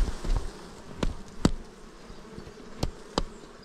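Honeybees buzz around an old, blackened beehive frame during a hive inspection. A low, steady hum runs throughout, broken by several sharp knocks and clicks close by.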